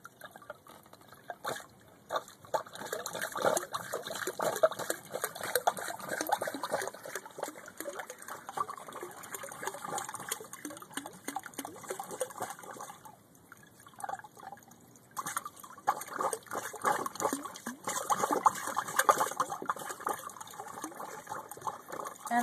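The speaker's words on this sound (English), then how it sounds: "And there's the water coming out of the through hole" Water drains from a boat's through-hull fitting, pushed out by a shower sump pump: a faint, continuous trickle and splash outdoors that briefly eases before flowing on steadily.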